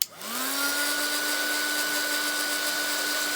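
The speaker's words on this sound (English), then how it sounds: "Okay, right, let's dry that page." Heat tool running steadily while drying a freshly painted junk journal page, a continuous close whirring blow with a sharp start and a steady pitched whine, no talking.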